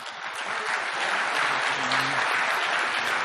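An audience at a motivational speaking event applauds the Mumbai core team, a dense, steady burst of clapping from many hands that swells slightly and holds throughout.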